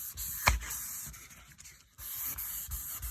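Wet sanding a custom airbrushed Corvette hood by hand with a flexible sanding block, giving steady close rubbing strokes with one louder scrape near the start and a brief pause partway through.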